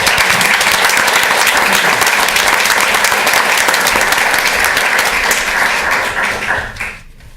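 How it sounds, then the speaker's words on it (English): Loud, dense applause from an audience at a school board of education meeting, sustained many-handed clapping that carries on steadily before fading out at the end. "Let's give one more round of applause for all of our"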